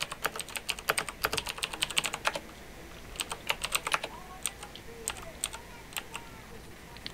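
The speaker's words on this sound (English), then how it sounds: "What are you typing up?" Rapid typing on a computer keyboard during a Minecraft survival session, with bursts of close, crisp key clicks that pause and resume in uneven clusters over a faint background hum.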